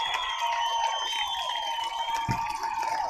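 Audience applause and cheering at a live comedy show, a dense, continuous wash of clapping and crowd noise sustained at steady loudness throughout.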